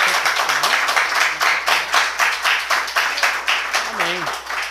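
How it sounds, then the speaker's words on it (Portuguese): A church congregation claps in a steady rhythmic beat, roughly two claps per second, while voices sing or call out over the clapping. "Pode dar uma salva de palmas para Jesus?"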